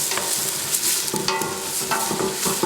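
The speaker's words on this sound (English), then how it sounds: "You really want to cook your garlic as well." Garlic and onions frying and being stirred in a pan for barbecue sauce, a loud close sizzle broken by scraping stirs at irregular intervals.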